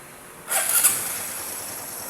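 A Honda RS125 fi motorcycle engine starts with a brief starter whir and catch, settling into a steady, near, hissing idle that holds on afterward.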